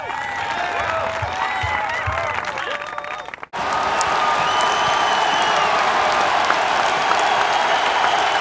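A crowd sound effect in a sound design demo: a murmuring scene with faint chatter cuts abruptly into a loud, dense wash of crowd noise and applause-like roar that holds steady to the end.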